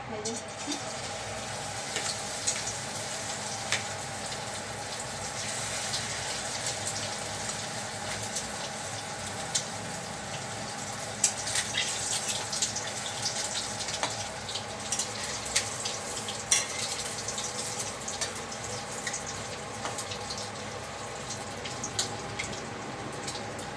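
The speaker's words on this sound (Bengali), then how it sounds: "এরপর নিচে এটাকে একটুখানি বড়া বড়া মতো করে হাতে করে দিলেও দেওয়া যায়" Spoonfuls of fritter batter sizzling in hot oil in a home kitchen, a steady crackling hiss with scattered pops and spits, quiet and close, with occasional talk over it.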